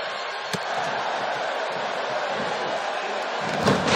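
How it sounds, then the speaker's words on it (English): Arena crowd in WWE 2K18, a loud, sustained roar of cheering with a couple of sharp slams cutting through. "I don't think I've heard a Toronto crowd this loud since we were in the Dome for WrestleMania 18"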